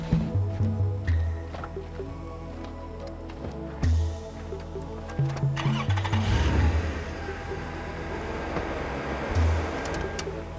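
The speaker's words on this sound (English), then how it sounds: "Go start the car again" A car engine being cranked repeatedly, several rhythmic starter churns that stop and restart, then a rougher surge as it catches, close and fairly loud.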